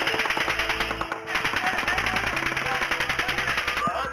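Automatic gunfire fired at police officers pinned down during a shooting rattles in rapid, sustained bursts of sharp cracks, with a short break midway and voices under the noise.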